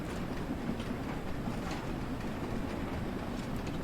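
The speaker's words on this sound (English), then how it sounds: "that's wheel slip right there" A steam locomotive in the Train Sim World 2 game, running in winter on a climb with falling steam pressure and slipping its wheels, gives a steady, dense rumble with rapid chuffing and rail clatter throughout.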